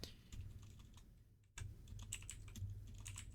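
Keys clatter on a computer keyboard as a status message is typed into Microsoft Teams, a quick, close run of soft clicks with a brief pause partway through, with no talking.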